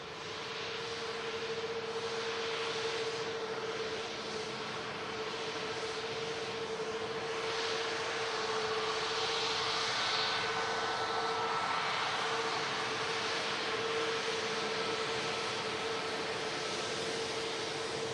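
A Malta Air airliner at Manchester Airport, its engines a steady broad roar with a sustained whine, heard from a distance without talk.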